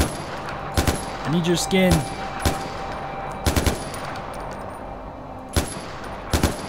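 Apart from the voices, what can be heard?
gunshots shooting a rhino in the video game Far Cry 4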